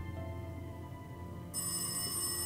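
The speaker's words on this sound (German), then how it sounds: "wo bimmelt denn hier das Telefon?" An old telephone rings in a horror video game, a sustained electric bell tone that brightens and grows louder partway through, steady and unbroken with no talk.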